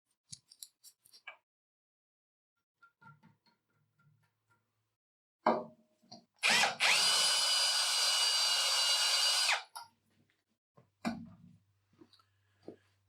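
A power drill fitted with an external chamfer bit runs for about three seconds, a loud steady high whine as it deburrs the damaged end of a bolt, framed by scattered clicks and handling knocks in an otherwise quiet room.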